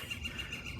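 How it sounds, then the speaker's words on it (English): A bird calls outdoors with faint, thin, repeated chirps at an even pace over a steady background hiss. "That bird's got something going on."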